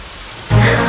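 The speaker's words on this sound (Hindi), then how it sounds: "It's raining." Rain starts suddenly during an outdoor cricket game, a burst of steady loud hiss cutting in halfway through after a quiet moment, with no talking.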